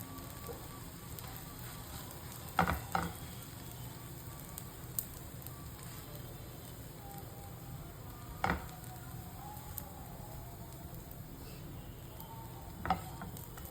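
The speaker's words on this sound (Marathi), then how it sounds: "आता याच्यामध्ये हे ब्रेडचे स्लाइस आहेत त्या शॅलो फ्राय करून घ्यायचे आहेत" Bread slices shallow-frying in a pan, a steady soft sizzle throughout with a few brief clanks and scrapes of stirring or turning.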